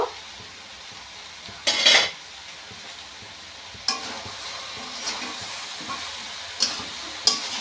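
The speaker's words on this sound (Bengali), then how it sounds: "দু মিনিট হয়ে গেছে ঢাকা খুলে নেব" A lid lifted off a pan of cabbage cooking with chickpeas, giving a short metallic clatter over a low sizzle, followed by a few lighter clinks and taps of utensils against the pan.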